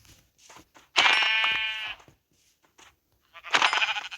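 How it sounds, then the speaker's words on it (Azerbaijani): Sheep in a video game bleat in two short, clear, nasal calls about two and a half seconds apart, close and loud over near silence with faint clicks between. "Qoyunlar gəldi."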